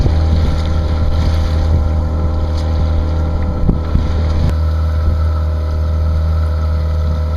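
A sailboat motoring in under engine power on Lake Erie, with a steady, loud low engine drone and constant water and wind noise throughout.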